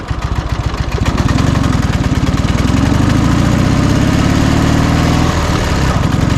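A Dnepr MT11 motorcycle with a sidecar, carrying a heavy load through woodland, revs its engine loudly and steadily as it rides into mud, a continuous throbbing drone that swells after the first second and holds near and strong, with no talk.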